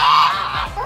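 A goose gives a loud, close honk, one drawn-out call followed by a shorter trailing honk.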